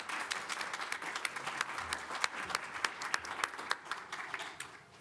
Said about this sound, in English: Let's give him a round of applause, too.